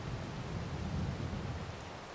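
Steady rain falls in Farming Simulator 22, a dense, even hiss of drops on surfaces with a low rumbling undertone, constant and moderately loud throughout, with no talking.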